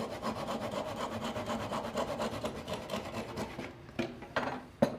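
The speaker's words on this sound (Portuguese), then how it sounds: "Vamos serrar esse excesso agora com o serrote." A handsaw cuts off excess wood on a homemade wooden mallet made from a rafter, giving rapid, rhythmic rasping strokes that run steadily before slowing into a few final scrapes and a knock.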